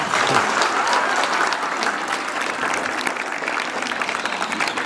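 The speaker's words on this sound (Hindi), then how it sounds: "तालियां।" Dense, steady applause from a crowd of students fills a hostel birthday celebration in Gumla, Jharkhand, sustained and fairly loud throughout.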